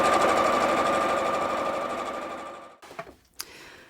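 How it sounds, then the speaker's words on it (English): A sewing machine stitches a zip into a pillowcase in a fast, steady rhythm, then slows and stops, followed by a couple of brief clicks and knocks. "take it easy as you sew over the teeth of the zip, but that should be fine for your sewing machine"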